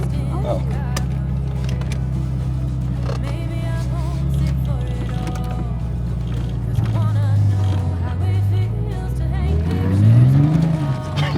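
A cheap supercharged car's engine drones loudly from inside the cabin as it accelerates, a rising whine and faint tire squeal building near the end, with occupants talking over it.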